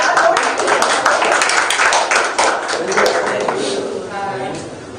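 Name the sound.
audience clapping and cheering for a team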